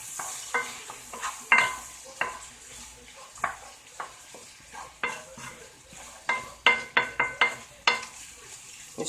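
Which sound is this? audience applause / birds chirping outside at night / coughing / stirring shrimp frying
stirring shrimp frying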